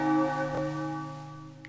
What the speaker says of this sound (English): So we're gonna go under this bell here.